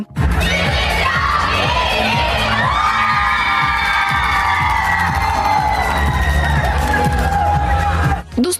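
A crowd cheers and shouts in a sustained, loud roar of ovation for first-place winners of a school performance battle, with voices whooping over steady music-like tones throughout, dropping briefly near the end.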